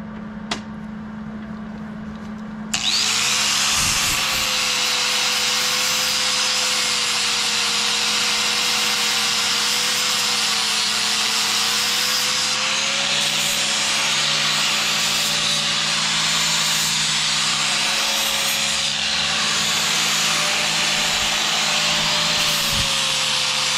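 A socket is welded onto a trailer jack, a steady, close crackling hiss with a droning buzz that starts after a short quiet hum and runs on without a break.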